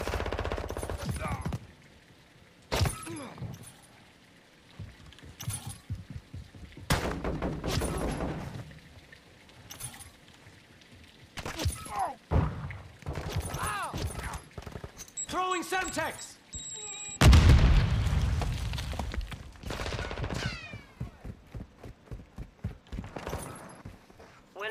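Gunfire and explosions in Call of Duty Modern Warfare 2 multiplayer, loud bursts of automatic fire and sharp shots in uneven clusters, with a heavy blast near the end, mixed with players talking throughout.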